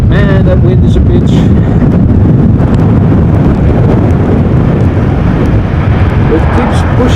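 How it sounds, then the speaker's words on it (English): Strong storm wind buffets a camera at Amsterdam Schiphol Airport during Storm Pia, making a loud, continuous roaring rumble across the microphone for the full seven seconds. "that wind is a bitch."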